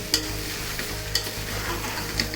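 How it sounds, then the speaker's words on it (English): Prawns sizzling and being stirred in a pan of spiced rice for prawn pulao over a medium-high flame, a steady frying crackle with a few clear scrapes of the spoon against the pan. "Now we are going to add the prawns. Keep the flame in medium high."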